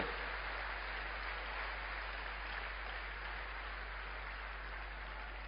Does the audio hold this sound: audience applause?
yes